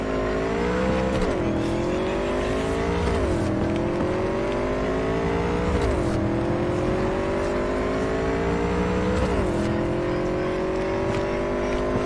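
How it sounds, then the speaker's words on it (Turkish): Jackie's motorcycle in Cyberpunk 2077 runs steadily at high revs, its engine note rising and dipping in repeated waves of acceleration and gear shifts, loud and continuous throughout. "Jackie'nin motoru durur işte."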